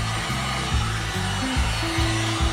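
A heat gun blows steadily and close up, warming bare body metal on a 1965 Chevy Bel Air before painting, its airflow hum wavering slightly as the gun is moved.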